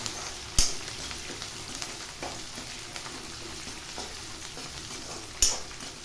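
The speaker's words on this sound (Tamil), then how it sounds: "காய்கறி, பச்சை மிளகாய், கருவேப்பிலை எல்லாத்தையும் போட்டுடலாம்." Vegetables, green chilies and curry leaves hit onion sautéing in a pan for wheat rava upma, with a steady frying sizzle, soft stirring and two sharp clinks of utensil on pan.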